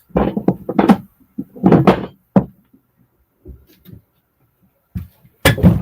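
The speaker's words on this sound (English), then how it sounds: "Right, shut the door." A door being shut produces a series of loud wooden knocks and thuds in irregular clusters, separated by short silences.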